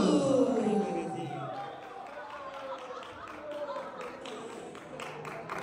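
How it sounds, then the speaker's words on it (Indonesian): Audience applause after a pantun drama performance at a teachers' learning community event, a broad wash of clapping that starts strong and continues steadily, with voices mixed in. "boleh tepuk tangannya sekali lagi Bapak Ibu"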